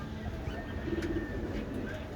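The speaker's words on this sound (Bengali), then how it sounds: "এই যে উপরে আরও কয়েকজন আসছে ভালো লাগে দেখতে অনেক ভালো জাতের কবুতর" Pigeons of a fine breed coo softly in a brief, low murmuring phrase, faint and somewhat distant over a quiet background.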